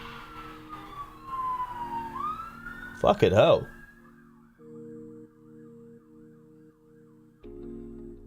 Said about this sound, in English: Like 3 cop cars just went past in a row.